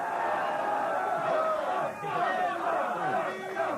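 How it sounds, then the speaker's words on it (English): A studio audience cheers and calls out at a television talk show, a dense roar of crowd voices and shouting that stays steady and fairly distant. "They're cheering my teddy bear."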